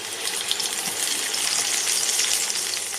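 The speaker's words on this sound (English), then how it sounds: "we are going to fry our goose on all sides" Goose pieces fry in melted lard in a large pan, giving a dense, steady sizzle and crackle that continues throughout with no talking.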